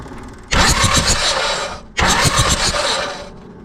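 A commercial diesel mower engine, left in a field for 20 years with a locked-up water pump, cranks over in two loud, churning bursts of about a second and a half each, with hot-wired glow plugs and a short pause between the bursts.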